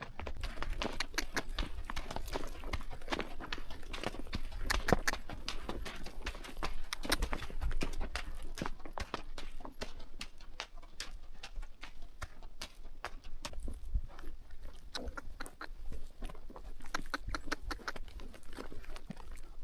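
Horse hooves clip-clopping during a horseback ride in Jordan, a steady rhythmic stream of sharp hoof clops on hard ground throughout, close and continuous.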